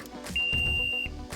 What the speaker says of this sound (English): So if that's beeping right there, I am right at the level.